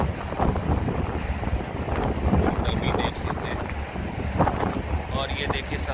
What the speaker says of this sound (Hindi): हवा चल रही है, बहुत प्लेजेंट है।